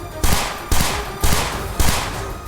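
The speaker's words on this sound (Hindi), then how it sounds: "उन्होंने पहले गोलियां बरसाई।" Bursts of gunfire from Hezbollah fighters firing weapons during a drill at a deserted site, four loud volleys at roughly half-second intervals, each a sharp crack followed by a ringing decay, with no talk.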